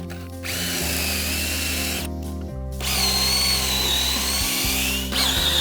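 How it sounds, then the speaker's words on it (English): A power drill whines steadily and loudly, briefly stopping twice and starting again as it bores into Brazilian hardwood decking. "Drill a bit, pull it out,"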